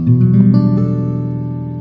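A single strummed minor eleventh guitar chord rings out with rich sustained harmonics, slowly decaying over a couple of seconds.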